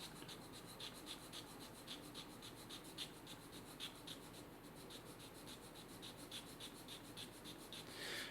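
Steady, rhythmic rasping of sandpaper rubbed back and forth on a cane reed, quiet and close, with regular strokes and no voices.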